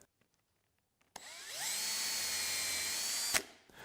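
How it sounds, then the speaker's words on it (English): A power drill bores pilot holes for wood screws in wood. After a few faint taps it spins up and holds a steady high whine for about two seconds, then stops abruptly. "Then drill pilot holes and thread the old screws back in."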